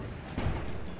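A rifle shot in Wonhon: A Vengeful Spirit, a single short booming report partway through, over continuous low game ambience.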